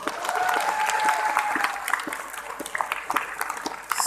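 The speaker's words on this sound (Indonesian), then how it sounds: "Tepuk tangan." Steady audience applause after an Indonesian religious address, full and close at first, then thinning into scattered individual claps toward the end.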